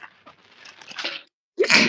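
A single sharp sneeze bursts out near the end, preceded by a quiet sniffly intake of breath.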